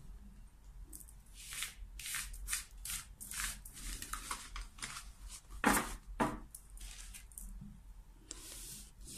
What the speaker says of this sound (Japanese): こちらね、カードをシャッフルしてるんだけれども